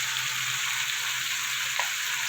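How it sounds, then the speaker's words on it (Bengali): Ground cumin and Kashmiri chili powder sauté with onions in a pan for Bengali egg curry, making a brief, even, continuous frying hiss, close and steady with no talking. "গুঁড়ো মশলাটাকে ভালো করে সাথে কষিয়ে নেব পেঁয়াজের সাথে"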